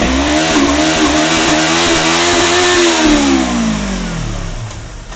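A motorcycle fitted with a homemade quickshifter revs hard and loud, its engine pitch climbing in a smooth sweep, then dropping briefly at a quick shift before fading toward a lower, steadier note.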